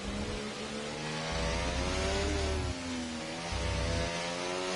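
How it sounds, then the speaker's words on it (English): An F1 car in the F1 24 racing game at San Marino revs hard with wheelspin, its high engine note rising and falling loudly and continuously through gear changes with no talk. "you can hear him trying to put the power down and the wheels just dragging along out back as they light up a little bit"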